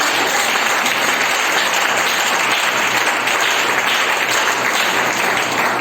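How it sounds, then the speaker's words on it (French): A church congregation gives God sustained applause and cheering at a service, dense clapping filling the room evenly from start to finish. "Donnez à Dieu une acclamation."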